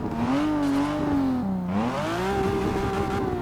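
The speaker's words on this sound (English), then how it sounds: "It's a pretty good sound for 430 horsepower and a V6 and 3-litre V6 engine" A 2014 BMW M4 Coupe with a 3-litre V6 of 430 horsepower, in Forza Motorsport 6, fires up and holds a loud, close, rising and falling engine drone with a small rev dip, no talk.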